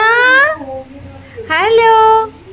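A cat meows twice, loud and close, each a long drawn-out call rising then falling, separated by a brief quiet pause, on a rainy day.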